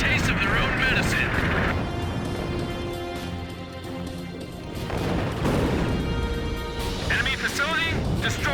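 An air strike in Ace Combat 5 on PlayStation 2 smashes an enemy headquarters, loud booming blasts and crashing explosions rolling over continuous game noise, with radio-style voices talking over much of it.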